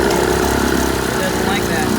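A 1980 Chrysler Sea King 15 hp outboard motor runs loud and close with an uneven, skipping beat, its engine note wavering and missing while someone talks over it.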